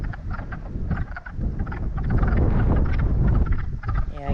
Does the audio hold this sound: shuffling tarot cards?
no